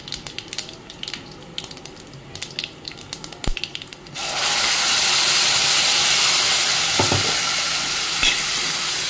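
Grated coconut hits hot tempering oil with a sudden loud sizzle. Quiet kitchen clatter comes first, then a steady, bright frying hiss continues to the end with a few faint stirring knocks.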